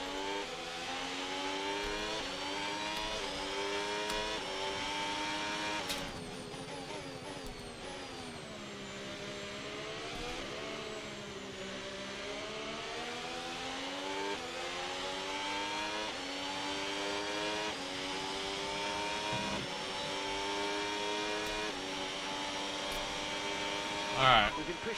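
The Cadillac Formula 1 race car engine drones continuously in a racing video game, a loud high-pitched whine rising and falling with gear changes through a lap, under occasional commentary.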